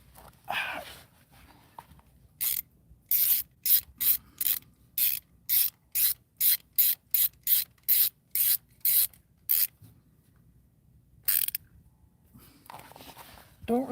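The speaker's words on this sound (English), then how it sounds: "you want to snug these bolts down, but you don't want to over torque these" Ratchet wrench tightening gasket bolts, a long run of rapid, evenly spaced rasping clicks in short bursts, close and loud, pausing, then one more burst, with a voice briefly at the start and end.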